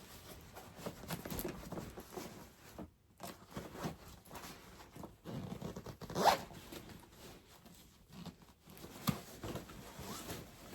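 A packed travel packing cube being zipped shut, its zipper rasping in several short pulls with brief pauses between them, close and fairly quiet, with light fabric scuffing around it.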